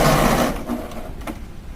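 A sewing machine stitches a beret seam at a reduced seam allowance, running loud and steady for about half a second before dropping to a softer, uneven whir with a few faint clicks.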